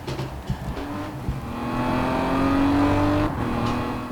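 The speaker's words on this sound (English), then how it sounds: "I really need to hear my engine more than I am." A kart engine in a racing video game, an Indy-class Falcon, whines and revs steadily, its pitch climbing through the middle and then easing off. It is loud and continuous, with no voices over it.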